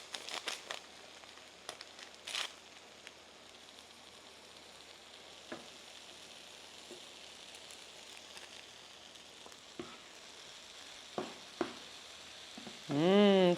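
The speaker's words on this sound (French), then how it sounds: "je vais les faire revenir avec du beurre salé et un petit peu de sucre vanillé" Apple pieces fry in salted butter with a little vanilla sugar, a steady soft sizzle and crackle running throughout, with brief stirring scrapes and clinks and a louder burst near the end.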